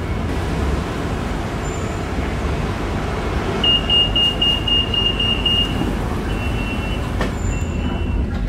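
Riding inside a Bangkok BTS Skytrain metro train, a steady rumble of wheels on rails fills the car, with a brief high squeal and a few faint electronic tones.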